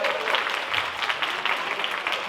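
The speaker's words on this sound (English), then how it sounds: "Let's give a round of applause for Sarah Liu." An audience at a Vietnamese film festival awards gala gives steady, dense applause, a continuous wash of clapping from many people with no talk over it.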